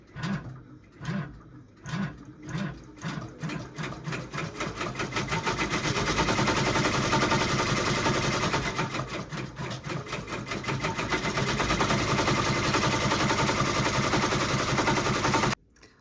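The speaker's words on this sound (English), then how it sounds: "So let's try stitching." A multi-needle embroidery machine stitches fabric held in a magnetic hoop, starting with a few slow separate thumps and then speeding into a loud, steady rapid mechanical clatter that runs for about fifteen seconds before stopping, with no talking.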